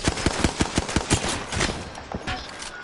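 Rapid bursts of video game gunfire, a string of sharp evenly spaced shots that thin out toward the end, loud and close with no talk.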